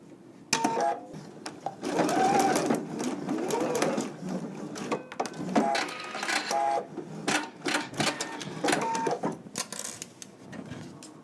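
A sewing machine stitches the inner leg seam of a pair of pants, running close and loud almost throughout with uneven speed and brief hesitations as the fabric is guided.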